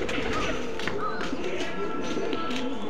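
Domestic pigeons, Benaras Azan and Pakistani high-flying breeds, coo in soft repeated low calls at close range over a constant background hum.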